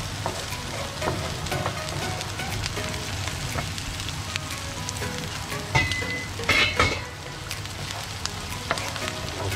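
Chopped onion sautéing in a pan for seafood spaghetti, just before squid goes in: a steady close sizzle with scraping stirring clatter throughout, no voices.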